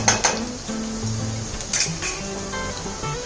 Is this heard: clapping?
no